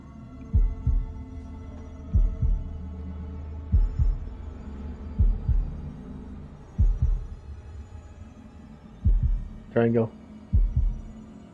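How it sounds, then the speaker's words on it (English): A heavy, low heartbeat thumps in regular double beats during a tense moment in the video game House of Ashes, loud and close, with a short voice breaking in near the end. "Oh no, heartbeat."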